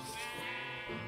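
A sheep in Minecraft bleats once, a wavering nasal cry lasting about a second, close and clear over game background.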